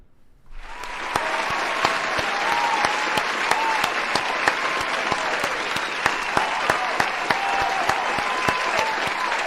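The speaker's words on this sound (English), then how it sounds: "Let's get some applause going." Steady audience applause starts abruptly and holds loud and even for several seconds, dense clapping with a few sharper claps popping out, no talking over it.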